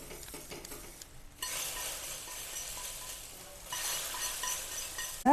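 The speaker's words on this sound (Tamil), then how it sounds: "இப்போ இதை வந்து கொஞ்சம் கொஞ்சமாக ஊற்றி நம்ம மிக்ஸ் பண்ணிக்கலாம்" Caramelized sugar is poured bit by bit into a pan of wheat flour halwa and stirred. Soft scraping comes first, then a sudden louder bubbling sizzle that continues, dips, and swells again. No one speaks.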